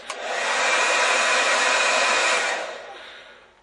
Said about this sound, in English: Connect the hair dryer that you know is working in the wall outlet.